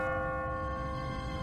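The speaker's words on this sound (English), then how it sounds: "What kind of church bell goes off at 20 past the hour?" A church bell in The Walking Dead: Season One video game rings steadily with a sustained, resonant tone and shimmering overtones, loud and continuous, with no voices.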